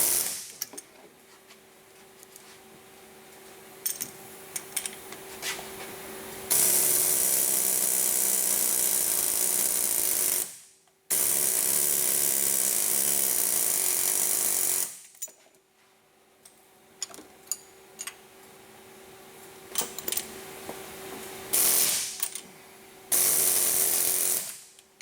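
Work to pull the counter gear off a TDI 02J gearbox brings several loud, sustained bursts of whirring, rattling power-tool noise, each lasting a few seconds. Quieter stretches between them carry scattered mechanical clicks and taps.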